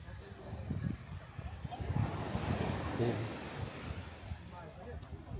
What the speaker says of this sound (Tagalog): Tanggalan muna natin ng mic para marinig nyo yung alon, yung hangin.